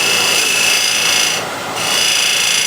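A steady, close scraping hiss of a tool trimming a piece of oak to fit, continuous rasping that dips briefly in the middle before resuming, with no voices.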